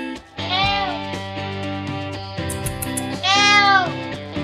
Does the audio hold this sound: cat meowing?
yes